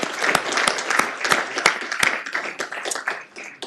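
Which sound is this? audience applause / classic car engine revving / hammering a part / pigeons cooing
audience applause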